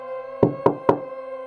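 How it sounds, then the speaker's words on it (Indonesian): Three slow, deliberate knocks on a door in a horror story, each a heavy thud over a steady, eerie droning tone. "Hanya ketukan yang kembali terdengar."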